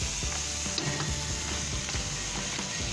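Egg-laden crabs being stir-fried with curry powder hiss in a loud, continuous close sizzle, broken by faint clicks and scrapes of stirring, and no voices are heard.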